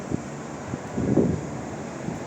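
Strong typhoon wind in Hong Kong roars and buffets the microphone in gusts, rising to a louder burst midway.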